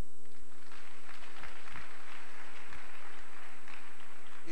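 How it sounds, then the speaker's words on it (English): Rhythmic clapping from a congregation during a Wednesday deliverance church service, steady beats over a constant electrical hum and a wash of room noise. "Clap for the Lord."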